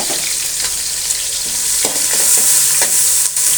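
Green chillies, curry leaves and a large onion hit hot oil for a greens kootu, giving a loud, close hiss of frying with intermittent scraping and stirring strokes of a spoon in the pan.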